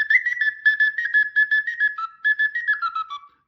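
A Sicilian friscaletto flute plays a quick run of short, shrill, tongued notes close up and alone, with the melody stepping down toward the end.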